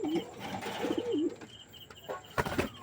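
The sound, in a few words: pigeon cooing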